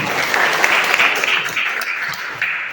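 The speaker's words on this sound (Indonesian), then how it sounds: "berikan tepuk tangan buat." A classroom audience applauds a student's answer during a biology lesson, a short burst of dense, close clapping with individual hand strikes audible, fading slightly toward the end.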